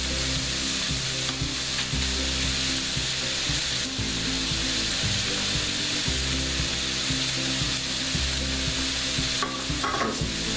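A sloppy joe mixture with ketchup added sizzles steadily in a hot pan while a utensil scrapes and stirs it in repeated strokes. The frying hiss stays close and continuous with no speech.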